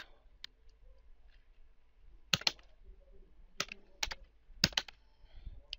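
Someone types on a computer keyboard in a quiet room, with scattered close key clicks coming alone and in quick little bursts, separated by short pauses.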